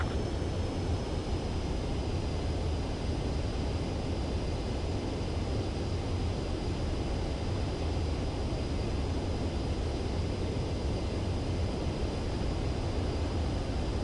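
Steady, loud jet engine roar of a fighter jet approaching a runway to land in the Ace Combat 7 video game, a broad continuous drone that holds for the whole stretch with no talk.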